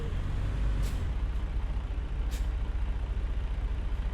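A tractor-trailer in American Truck Simulator comes to a stop at night, with a steady low engine drone and two sharp hissing air-brake bursts over it and no voices.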